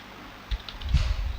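A few soft keystrokes on a computer keyboard while code is typed, faint and close, clustered over about a second.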